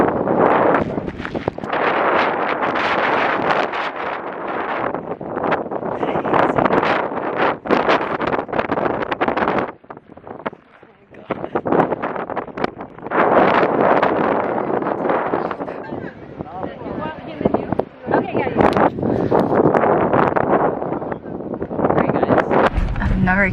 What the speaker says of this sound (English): I've never experienced wind like that in my life.